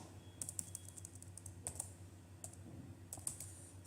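Someone types a tag name for a cloud server setup on a computer keyboard, a few quick bursts of soft key clicks with short pauses between them, faint and close.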